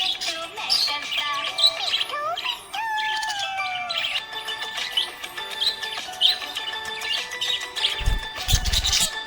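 A budgie gives a dense run of bright chirps, warbles and short whistles with little pause, close and fairly loud. A few low thumps come near the end.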